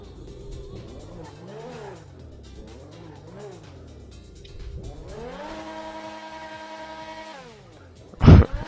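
Grotti X80 Proto supercar in GTA revving hard, a high-pitched engine climbing and falling in repeated sweeps, then holding a steady scream before a sharp loud burst at the end.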